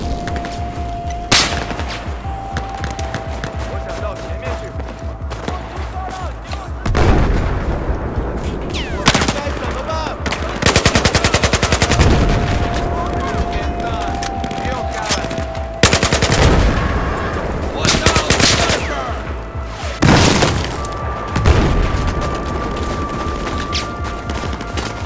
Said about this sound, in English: They've got grenade launchers!